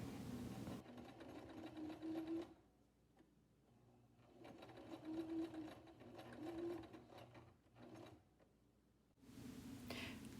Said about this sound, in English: I sewed 2 pieces of the vinyl together